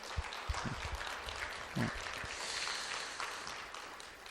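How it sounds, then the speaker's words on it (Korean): A church congregation at a Sunday service applauds, a faint, steady wash of clapping that holds evenly throughout, with a few louder low thumps early on. "우리 박수로 한번 모든 영광 주님 앞에 올려드리시겠습니다"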